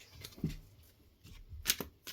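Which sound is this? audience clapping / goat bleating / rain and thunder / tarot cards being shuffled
tarot cards being shuffled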